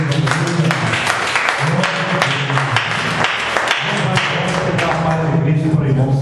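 A church congregation applauds during a Portuguese-language worship service, with dense, close clapping mixed with thumps and voices, while a low sustained tone hums beneath, filling the room continuously.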